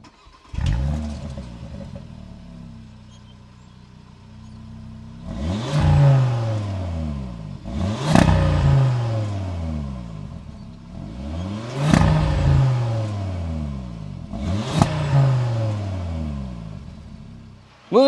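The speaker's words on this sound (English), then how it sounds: "we have the sport exhaust system, so that's going to give us an even better sound" A 2026 Audi RS3 with a sport exhaust revs hard four times in a row, each blip surging up and falling back through a rumbling idle, loud and close with no talking.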